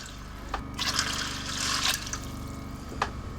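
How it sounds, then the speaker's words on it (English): Water being poured into a pot for meatless chili, a steady, soft trickling stream with splashy bursts, close but fairly quiet over a low hum. "And then about 4 cups of water, or if you measure like I do, just under 2 pints of water"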